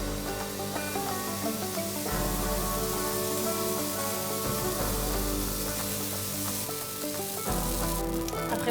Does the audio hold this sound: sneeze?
no